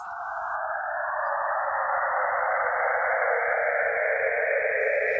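Saturn's rings rendered as sound give a steady band of hiss like radio static, which rises slightly and holds for a few seconds, with no voices.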